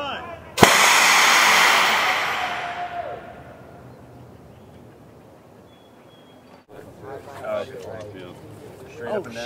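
An air cannon fires a projectile with one sharp, loud blast that decays over a few seconds, followed by quieter outdoor ambience and people talking.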